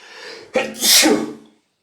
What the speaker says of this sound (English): You really don't want to be that guy to sneeze on stream.